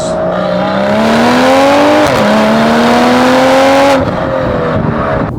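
A Stage 2 tuned BMW M340i with the B58 engine pulls hard under acceleration: a loud, close, rising engine note, cut twice by quick gear shifts before climbing again.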